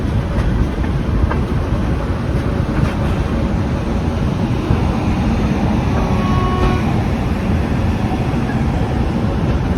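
A passenger train rolls into platform 1 at Gaya junction on a foggy North Indian morning, a steady, loud rumble of wheels and carriages with wind buffeting the microphone throughout.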